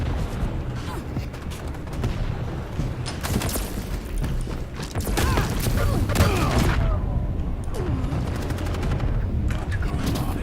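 Rapid gunfire from the arena shooter Quake Champions crackles in dense bursts across the whole stretch, loud and busy, with a player's voice talking over the shots.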